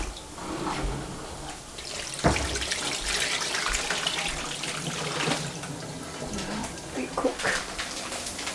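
Tap water runs steadily into a bowl as sliced potato and celery are rinsed, with splashing and clinks from the bowl over the continuous flow.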